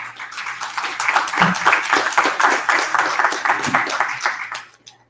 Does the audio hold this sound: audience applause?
yes